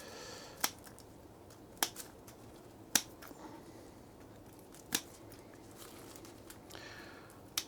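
Scissors snip away old junk leaves from potted strawberry plants: about six sharp, faint cuts spaced irregularly, roughly a second or more apart, over a quiet background.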